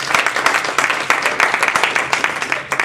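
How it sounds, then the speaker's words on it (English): Audience at a humorous speech contest clapping for a departed contestant, close, steady applause with distinct individual claps throughout the short burst. "so let's just give her a clap"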